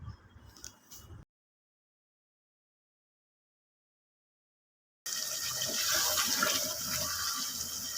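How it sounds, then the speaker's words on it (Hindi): Water pours and gushes into a pan of simmering gravy made with black chickpeas, potatoes, tomatoes and onions, a steady loud splashing stream that follows a short burst of kitchen noise and a silent gap. "जब अच्छे से भून जाए तो बाकी का पानी भी डाल दें।"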